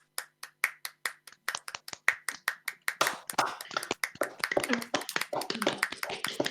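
Hands clap sharply in an online theatre performance of The Tempest, starting as a single person's evenly spaced claps, then swelling into a quicker, overlapping flurry of several clappers, close and crisp.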